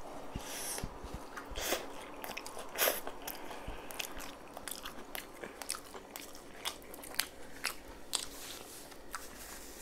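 Close, wet biting and chewing of spicy beef shawarma, with repeated crunchy bites and mouth sounds in an uneven rhythm and light breathing between them, and no talking.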